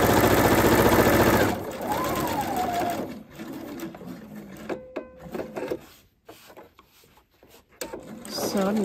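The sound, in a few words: sewing machine stitching around corners of a pocket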